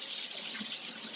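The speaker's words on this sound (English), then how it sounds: "Let me wash my carrots real quick." Carrots being rinsed under a running kitchen tap, a steady close hiss of water splashing into a sink with no pauses, and nobody speaking.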